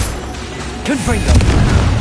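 A Confringo blasting spell goes off in the Hogwarts Legacy video game, a loud booming burst with a whooshing sweep in the middle and rumbling low-end aftermath.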